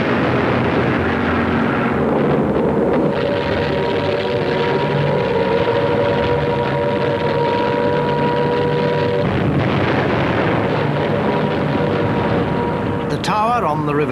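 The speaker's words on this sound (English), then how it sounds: "London is under siege from German planes." World War II German planes drone over London during the Blitz, a loud, continuous engine roar with shifting tones and a rising whine near the end, mixed with narration.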